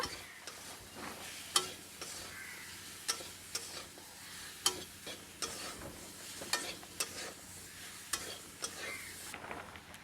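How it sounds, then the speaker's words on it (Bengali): Raw mango with salt and turmeric being stir-fried for chutney, a faint low sizzle broken by repeated sharp scrapes and taps of a spatula against the pan at an uneven pace. "আবার একটু ভালো করে আমটা কষিয়ে নেব"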